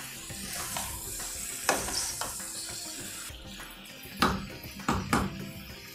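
Mixed vegetables for a vegetable Kolhapuri, including peas and salt, sizzle steadily in a pan while a spoon stirs and scrapes with a few sharper clacks against the metal, close and without talk.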